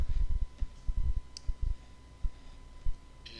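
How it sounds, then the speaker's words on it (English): Several soft mouse clicks and a keyboard Enter press on a computer, landing as a quick irregular run of low taps at close range, then a lone click and a final tap, with no voices. "So we're going to click and hit enter"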